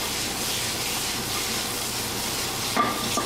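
Sliced mushrooms fry in oil with a pinch of salt while being stirred in a pan, giving a loud, steady sizzle with a short clatter near the end.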